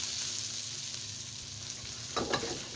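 Ground beef fries in a pan with no added oil, giving a soft, steady sizzle, then a short burst of scraping and stirring near the end.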